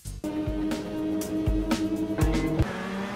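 Prototype race car from the Reiza pack in rFactor 2 on the Spa circuit, a steady high engine whine with several sharp quick drops in pitch as it shifts gear.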